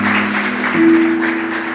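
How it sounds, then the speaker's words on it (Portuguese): Church congregation applauding during a sermon, with a steady wash of clapping and a sustained tone underneath. "Então dá um glória a Deus e aplauda o Senhor por isso."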